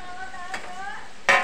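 Small fish go into a simmering gravy in a pan and get stirred, with soft scraping strokes over a gentle sizzle and a louder clatter at the end; no talking.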